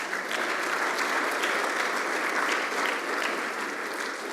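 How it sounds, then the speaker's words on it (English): A symposium audience applauds students, a dense, steady wash of many hands clapping together for several seconds with no talk over it. "I think our students deserve a round of applause."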